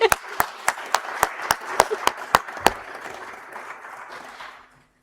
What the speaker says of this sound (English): let's just do a round of applause and welcome.